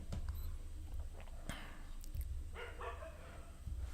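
Dogs bark faintly in the background, a few sharp distant yaps scattered over a low, steady indoor hum.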